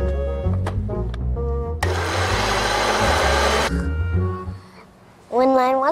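A blender making bubble tea whirs loudly for about two seconds as a dense, steady buzz, set among music and children's voices talking before and after it.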